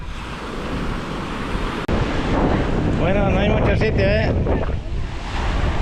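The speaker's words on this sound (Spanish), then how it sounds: "el mar está dando un poquito fuerte para pasar" Rough sea surf breaking on a sandless beach at Playa del Carmen, a constant loud roar of waves under heavy wind buffeting the microphone, with someone speaking Spanish over it.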